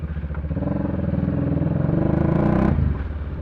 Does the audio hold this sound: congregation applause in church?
no